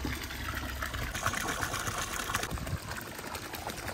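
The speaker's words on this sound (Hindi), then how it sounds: "तो इसमें पानी भरना शुरू हो चुका है।" Water gushing steadily from a pipe or pump into a dug pit being filled as a pool, a continuous broadband rush with a faint mechanical hum underneath, no talk.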